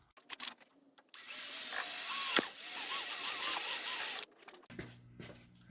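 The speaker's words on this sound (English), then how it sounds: "There we go with a self-tapper screw." A power drill drives a self-tapping screw into exhaust pipe on a 1996 Land Rover Discovery, with a close, loud whine of about three seconds between brief clicks and handling noises.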